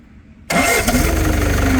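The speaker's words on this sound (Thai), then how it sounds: "เอาสตาร์ทให้ฟังเสียงเครื่องกันหน่อย" An Isuzu diesel engine on a used Kobelco excavator cranks and catches abruptly after a brief quiet moment, then settles into a loud, steady rumble close by.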